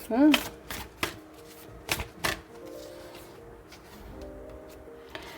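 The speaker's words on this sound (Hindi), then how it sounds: "let me pull out few more cards आप लोगों के लिए" Tarot cards are riffled and flicked, with several sharp snapping bursts early on and then softer slides and a final flick, alongside a voice that carries on around them.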